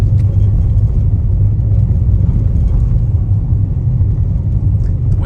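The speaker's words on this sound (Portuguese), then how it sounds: "vamos fazer o teste aqui de ruídos internos, ó, em paralelepípedo." Loud, steady low rumble of tires over cobblestones heard from inside a 2026 Nissan Kicks, constant and droning with faint rattles on top.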